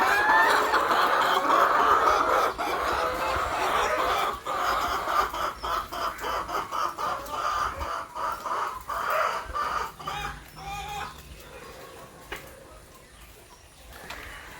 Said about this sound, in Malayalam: ഇതെൻ്റെ പഴയ കോഴികളാണ്